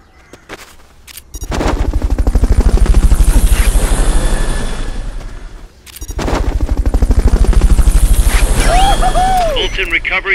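Fulton recovery helicopter in the video game Metal Gear Solid Peace Walker, a loud, steady rotor drone in two long swells with a short gap between, mixed with game effects and electronic chirps near the end.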